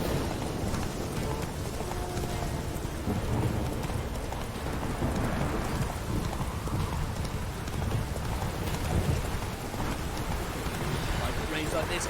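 Horse hooves clip-clop steadily through rain in The Witcher 3: Wild Hunt, a continuous rhythmic trot under a wash of rainfall, close and fairly loud throughout, with a person talking over it.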